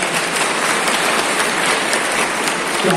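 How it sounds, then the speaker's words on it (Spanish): Steady, dense applause from an audience at a weekend community event in Salcedo, Cotopaxi, continuing evenly for the whole stretch without pause. "denle un fuerte aplauso a ellos"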